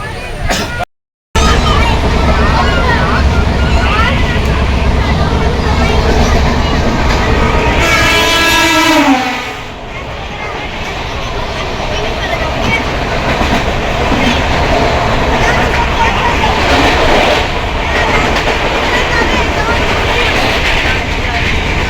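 A train rumbles and clatters along the rails at a steady loud level, with a horn-like falling tone midway and people talking throughout.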